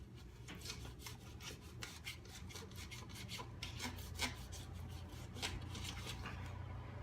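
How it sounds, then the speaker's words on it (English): An Instant Pot condensation rim is scrubbed with a brush in quick, repeated rasping strokes, close and quiet, with an irregular back-and-forth rhythm and no talking. "I hold down with my finger wherever possible and I give it a scrub."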